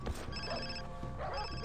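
A telephone rings in Far Cry 3, two short warbling bursts against dense game ambience, fairly faint and with no talk.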